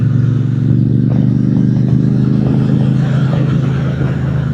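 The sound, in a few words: Triumph Speedmaster motorcycle riding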